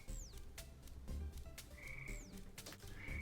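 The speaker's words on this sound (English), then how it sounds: "There's a frog outside my studio and it won't shut up." A frog croaks repeatedly just outside a studio. The calls come in a steady rhythm, fairly close and clear, over a low background hum, with no talking.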